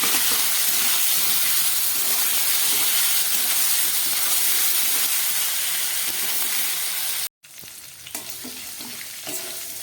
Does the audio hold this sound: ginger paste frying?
yes